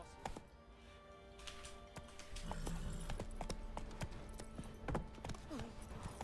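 Roach the horse in The Witcher 3 walks with a steady clip-clop of hooves, soft and moderately close, over quiet game ambience with a faint tonal hum.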